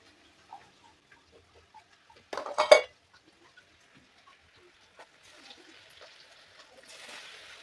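Potatoes being stir-fried with ginger-garlic paste in a pan, heard as a short burst of scraping and clattering of a utensil against the pan, followed by a low sizzling hiss; no one talks.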